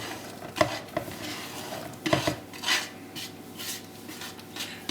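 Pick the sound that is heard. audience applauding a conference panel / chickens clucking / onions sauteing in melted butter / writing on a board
onions sauteing in melted butter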